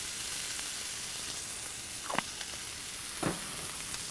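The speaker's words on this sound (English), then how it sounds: "Let's get this beast of a patty on the griddle." A thick beef burger patty sizzles on a hot griddle with a constant faint hiss and a couple of brief louder crackles.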